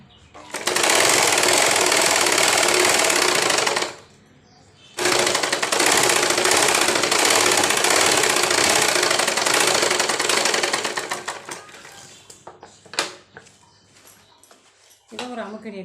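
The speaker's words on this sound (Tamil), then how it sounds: "இது ஃப்ரண்ட் பாவாடைக்கு கீழே ஒரு பட்டி துணி மாதிரி வச்சு தைக்கிறோம்" A sewing machine stitches a strip of fabric beneath the front skirt of a gown, running loud and steady for a few seconds, pausing briefly, then running again before slowing into scattered short bursts and handling noises.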